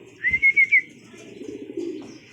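Racing pigeons fly in and land at a loft on a rainy day: a quick burst of flutter-like thumps under a sharp whistle, followed by soft rustling and low cooing nearby.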